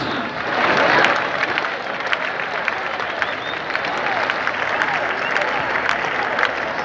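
A bullring crowd in Valencia claps steadily and densely after a recortador leaps over a bull during a recortes contest final, with scattered calls and an announcer's voice over the applause.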